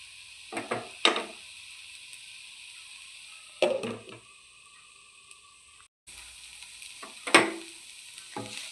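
Bitter gourd and tomatoes sizzle quietly in a pan, with a faint steady hiss and three or four sharp bursts of stirring and scraping spaced several seconds apart.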